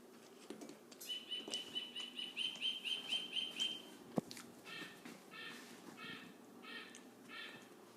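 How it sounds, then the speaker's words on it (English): A bird clock chimes the hour with a run of bright, evenly spaced chirping bird-song notes at moderate volume. Further softer warbling calls follow over quiet room noise, with no talking. "There's this bird clock we have that syncs for every single hour."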